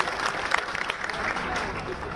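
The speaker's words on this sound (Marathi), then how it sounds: "त्यांच्यासाठी आपण जोरदार टाळ्या वाजवाव्यात." An audience at a political speech in Bhigwan breaks into loud, sustained applause, many hands clapping in a dense, continuous patter with a few sharper claps standing out.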